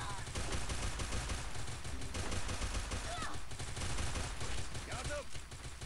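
Rapid bursts of automatic gunfire in the Free Fire video game, dense and loud almost without a break, with a voice talking briefly over the shooting.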